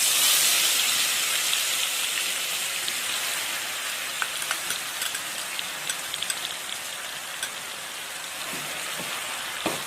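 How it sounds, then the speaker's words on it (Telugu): A ground paste of onion and green chillies frying in hot oil in a rural Telangana kitchen, a loud steady sizzle and hiss with scattered crackles and pops that eases slightly over time, no voices. "ఈ పేస్ట్ని ఈ ఆయిల్లో యాడ్ చేసుకోవాలి."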